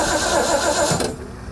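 Tow truck engine with a manual choke cranking and catching, a rough mid-pitched running burst that cuts off abruptly about a second in, leaving lower engine rumble.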